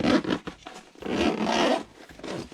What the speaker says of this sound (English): zipper's pretty nice on this. It doesn't feel like it's gonna break.